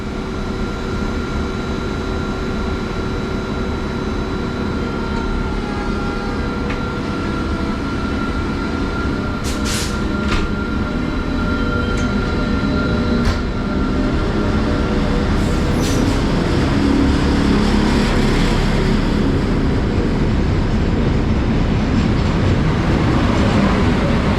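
A train with rear locomotive 73119 pulls out of a West Sussex station platform, a loud continuous rumble of wheels and engine close by, with brief squeals and clicks of the rails as it moves off and no talking.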